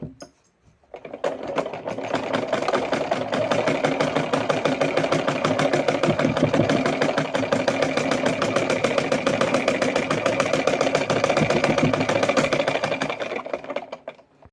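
A sewing machine stitches a bag made from old cloth, running as a fast, even mechanical whirr for about thirteen seconds. It starts up and winds down, with no voices.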